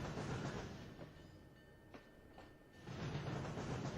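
A train in the Trainz video game rolls over switches, a steady rumbling roll broken by a few distinct clacks, dipping quieter in the middle before the rumble swells again.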